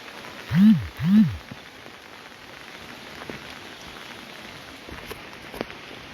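Steady hiss of heavy rain falling in Shimla, continuous and fairly loud, with two short low swooping tones near the start and a few scattered knocks and clicks.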